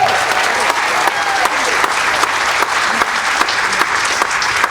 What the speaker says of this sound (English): Let's give him one more round of applause, please.